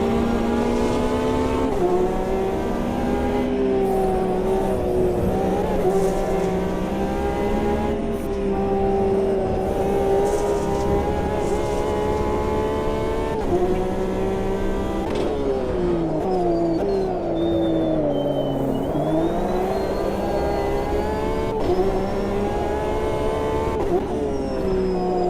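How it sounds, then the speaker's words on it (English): A rallycross car racing in a multiclass sim racing session, its engine droning steadily with rising and falling pitch as it shifts and accelerates, loud and sustained for about twenty-five seconds with no talk. "There's the rallycross car."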